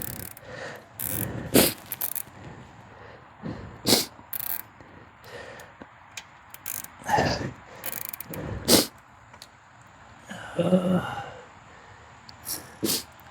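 Scattered clicks, scrapes and short ratcheting bursts come from tightening a KUNGKIC sequential side marker light fitting on a Subaru, heard up close in irregular spurts with quiet pauses between them.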